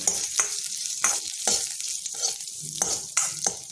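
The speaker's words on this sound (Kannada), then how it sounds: "ಅದನ್ನು ಹುರ್ಕೊಳ್ಳೋಣ ಎಷ್ಟು ಹುರಿದ್ರೆ ಸಾಕು" Sesame seeds for a star fruit curry are dry-roasted in a pan, making a soft hiss broken by frequent sharp scraping and tapping strokes of a spatula, close up and with no talking.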